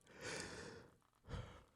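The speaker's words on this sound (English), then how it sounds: "Excuse my yawning." A person yawns softly with a long breathy exhale, then a short lower breath follows, quiet and close with no speech.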